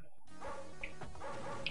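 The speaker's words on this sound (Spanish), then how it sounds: "Que vienen los perros, vienen los perros." Dogs barking in the video game NARC, several quick yips and barks over a constant game soundtrack, fairly faint in the mix.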